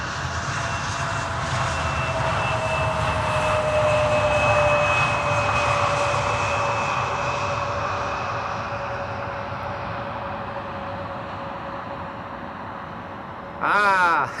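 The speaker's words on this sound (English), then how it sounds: "Next landing, going to the center runway is KLM flight 1856, a 737-700." A KLM Boeing 737-700 landing on the center runway at Amsterdam Schiphol makes a loud, sustained jet roar with steady whining engine tones that slowly fade. A brief voice-like burst comes right at the end.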